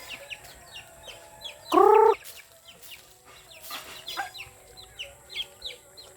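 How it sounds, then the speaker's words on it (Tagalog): A single loud chicken call, a short harmonic squawk, stands out over a quiet farmyard with faint distant bird chirps and clucks. "Di patukain ko muna itong mga manok."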